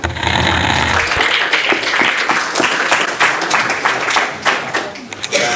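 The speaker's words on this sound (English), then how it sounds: "So, yeah, round of applause." Audience applause at a talk on think tanks: steady dense clapping from a crowd filling the whole stretch, loud and close, with a few scattered louder claps near the end.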